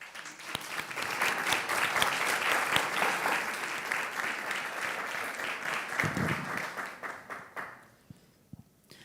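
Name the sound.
audience applause welcoming speakers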